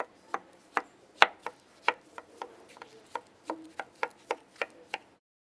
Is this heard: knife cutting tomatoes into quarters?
yes